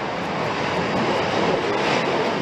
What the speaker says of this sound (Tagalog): Sa bawat take-off, dumadagundong ang tunog mula sa makina ng mga ito